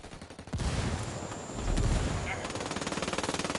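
Gunfire in the video game Ghost Recon, with sustained automatic bursts and rapid fusillades forming a dense chattering rattle, loud and close, with voices briefly mixed in.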